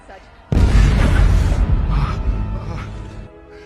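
Several bombs strapped to a hostage's body detonate in a movie scene, a sudden loud blast that erupts and then rumbles and decays over a few seconds.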